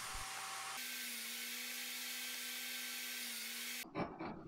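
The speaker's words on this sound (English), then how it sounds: "So then when you take it over to do the cross cut, which I'm doing now" A hand or power saw makes a cross cut in timber for a half lap joint on a dining chair build, giving a steady, loud, continuous whine for several seconds before ending in brief clattering noise.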